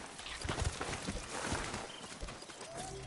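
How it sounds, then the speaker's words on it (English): A flea cow creature from the game Tails of Iron II plods along in soft clip-clopping footfalls, a few irregular hoof-like steps over a faint ambient wash. "It's a flea cow."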